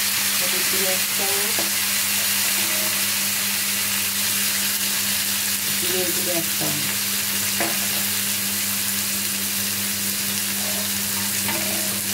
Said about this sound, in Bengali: এবার আমি সমস্ত মশলাগুলো দিয়ে দেব। মশলাটা ফুটে যায়, তার জন্য একটু জল দিয়ে দেবো।